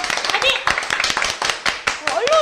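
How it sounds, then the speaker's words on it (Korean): A few people clap in short irregular bursts on a Korean podcast, quick close hand claps mixed with overlapping talk and laughter. "박수."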